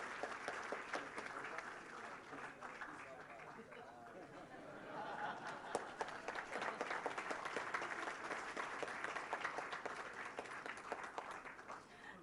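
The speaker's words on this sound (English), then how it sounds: "A round of applause for the gentleman." A seated audience applauds at a university award ceremony honouring a professor, steady clapping that swells and holds over murmured chatter throughout.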